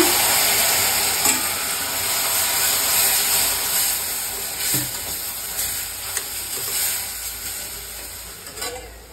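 Melted jaggery goes into wheat halwa in a pan and sizzles with a steady bright hiss while it is stirred, with occasional soft scraping and clinks from the spoon.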